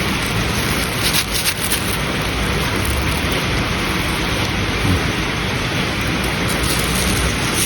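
Steady heavy rain pours down continuously, a dense hiss filling the whole clip with no voices.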